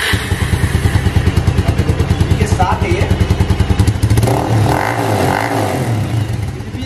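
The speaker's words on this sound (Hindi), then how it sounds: "पहले कर लेते हैं गाड़ी को स्टार्ट और सुनते हैं इसका साउंड।" A motorcycle engine with an Akrapovic aftermarket exhaust fitted with a dB killer idles with a rapid, throaty pulsing, then revs up louder toward the end, with someone talking over it.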